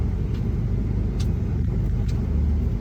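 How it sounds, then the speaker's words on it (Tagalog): Heavy, steady engine rumble from inside a moving bus on a road, a constant low drone with faint clicks and rattles over it. "I'm riding a bus"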